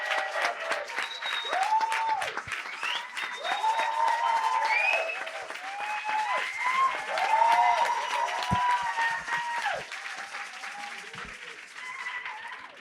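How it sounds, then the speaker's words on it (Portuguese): An audience applauds at a talk on living through menopause, sustained clapping throughout with a few whistling cheers and voices rising above it. "Queria pedir uma salva de palmas para a dona Juliana Ferraz,"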